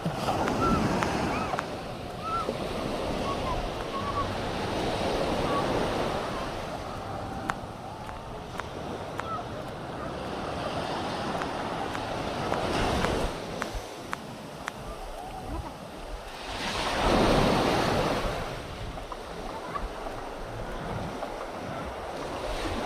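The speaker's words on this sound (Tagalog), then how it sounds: "Nakalat kasi malakas ang hangin." Strong wind by a river roars and buffets the microphone in gusts, with a rushing, wave-like surge, rising louder near the end.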